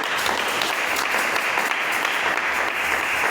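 A church congregation applauds with dense, continuous clapping throughout, loud and close, with faint voices mixed in.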